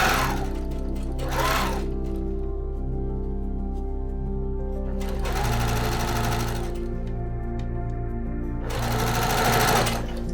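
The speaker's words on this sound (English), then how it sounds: "and then I go to sew." Sewing machine stitching a corset seam, running steadily for about ten seconds with a constant motor hum and a few brief pauses in the needle rhythm, close and loud with no talk.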